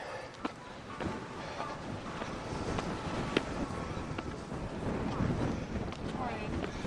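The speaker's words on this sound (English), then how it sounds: "Quite windy today" Steady wind buffets the microphone with a broad, rough rush, and a few faint clicks and thumps stand out in the blustery noise.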